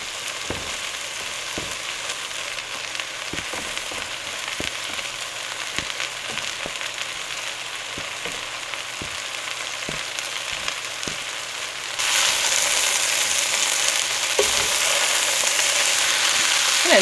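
Spinach hits a hot frying pan and sizzles steadily, with scattered utensil taps and stirring clicks, and the frying grows louder and brighter in the last few seconds; no one speaks.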